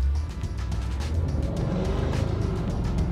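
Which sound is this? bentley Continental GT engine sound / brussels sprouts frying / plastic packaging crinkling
bentley Continental GT engine sound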